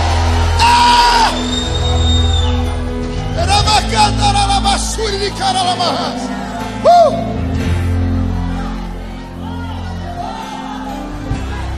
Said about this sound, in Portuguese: dá um berro de glória a Deus nesse lugar